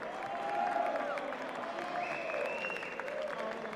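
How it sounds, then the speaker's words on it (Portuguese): Parliamentary deputies applaud in the chamber, a sustained wash of clapping from a large group with a few raised voices and tonal sounds over it. "Os deputados todos aplaudindo."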